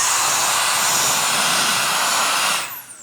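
A portable electric mini air pump from Benedict, used for inflating camping gear, blows loudly and close with a steady whooshing whine before cutting off near the end and spinning down.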